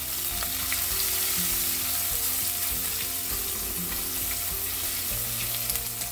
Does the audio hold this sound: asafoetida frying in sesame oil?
yes